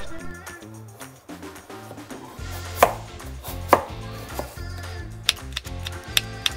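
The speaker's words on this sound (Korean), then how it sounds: "나무 젓가락보다는 얇고 성냥개비보다는 굵게 썰어야 되는데" A knife slices a large Korean radish into thin matchstick strips on a cutting board, giving rapid, even chopping taps that come quickly, then sharper louder strikes near the end, while soft background music plays underneath.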